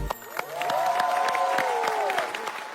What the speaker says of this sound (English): Let's have a round of applause for everyone who performed.